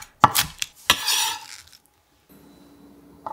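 Knife slicing green onion diagonally on a cutting board, a few sharp close chops with a short rustle between them, then near silence and one last faint tap.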